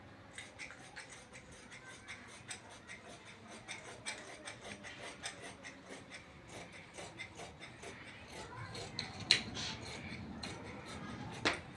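Scissors snip and rasp through suit fabric at a sewing table, soft close cutting strokes repeating irregularly and growing a little louder toward the end.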